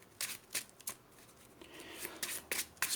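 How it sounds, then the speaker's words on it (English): Marvel Champions encounter deck cards being shuffled nearby, a series of crisp riffling bursts separated by short pauses, with no talking. "I'll shuffle the villain deck, or the encounter deck I should say"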